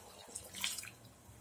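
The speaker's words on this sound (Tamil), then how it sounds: "இப்போ இன்னொரு டம்ளருக்கு நான் தண்ணி சேர்த்துடுறேன்" Water is poured into a pot of rice and milk while cooking vegetable pulao: a brief, soft splash and trickle that rises and fades within about a second, faint and alone.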